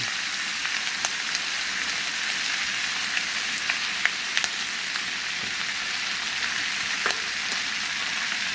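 Food sizzles and crackles steadily in a hot pan after soy sauce is added, a dense continuous frying hiss with scattered sharper pops and no talk.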